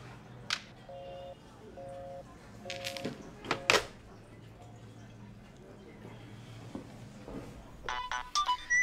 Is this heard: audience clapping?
no